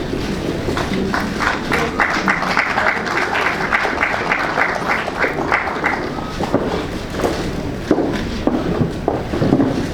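Audience clapping at a flower presentation ceremony honoring a Red Cross ambassador, a steady wash of applause filling the room at moderate volume with a few voices mixed in.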